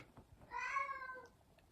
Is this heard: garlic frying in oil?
no